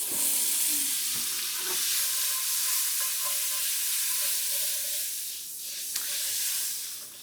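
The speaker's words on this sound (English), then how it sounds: "in the same pan, I'm just gonna melt the butter" Butter melting in a hot pan sizzles and hisses steadily from close by, a continuous bright crackle with faint stirring scrapes and no talking.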